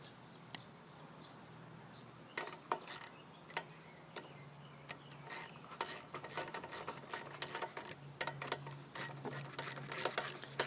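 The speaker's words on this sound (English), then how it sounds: "Now just use your 10mm socket, tighten this thing up." A 10mm socket ratchet tightens a bolt on a Husqvarna HU 700H lawn mower, fast clicking pawl strokes in short repeated bursts, close and crisp with quiet gaps between.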